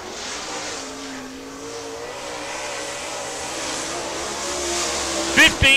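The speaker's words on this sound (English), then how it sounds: "As the next car coming out, going to be the number 4 car" A late model race car pulls out onto the track during qualifying, its engine whine rising steadily and growing louder under an announcer's commentary, with a brief sharp burst at the very end.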